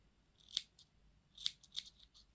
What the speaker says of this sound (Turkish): Şimdi ipimin ucunu kesiyorum.